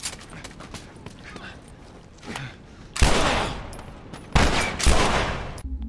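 Gunfire in the video game The Last of Us lands as headshots, with two loud dense bursts of shots over busy game background noise.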